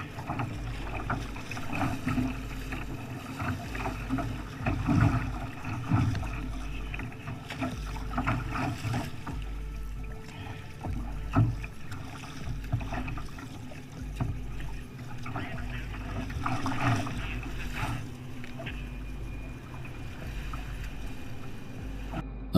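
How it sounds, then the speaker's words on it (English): Kayak paddling against a strong, gusty headwind with gusts up to 40 mph in bad weather, heard as steady low wind buffeting the microphone with rhythmic water and hull noise throughout, with a voice faintly present underneath. "Dave took advantage of the bad weather by kayaking against a strong headwind with gusts of up to 40 miles"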